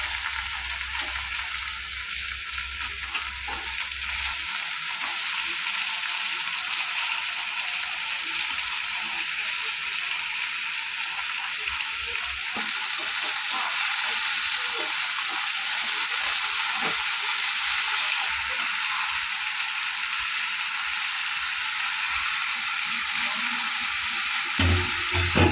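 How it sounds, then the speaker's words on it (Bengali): Mixed vegetables stir-frying in a pan just after bitter gourd: a loud, continuous oil sizzle with occasional stirring scrapes, steady throughout. "সব সবজিগুলো দিয়ে এবার ভালো করে নাড়াচাড়া করে নেব।"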